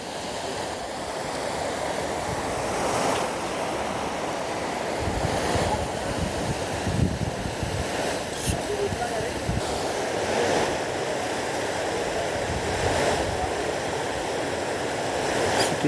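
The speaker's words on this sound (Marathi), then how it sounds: "हा आहे वॉटरफॉल" Kumbhe waterfall in Raigad, with steady broadband rushing water that holds at an even level throughout, under light wind noise and no talk.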